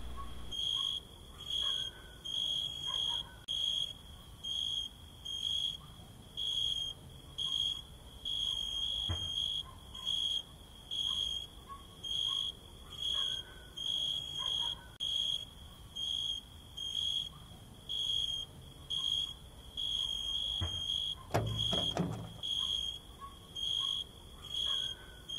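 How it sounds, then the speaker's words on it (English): Crickets chirp in a horror video game, a high, shrill trill pulsing in regular bursts over a quiet background for the whole stretch, with a brief louder noise near the end and no talking. "The sound of the crickets is annoying."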